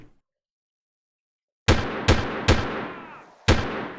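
Gunfire in the video game Delta Force on a snowy Novaya Zemlya mission: after a silent stretch, four loud, booming shots with long ringing tails, three in quick succession, then a pause and one more.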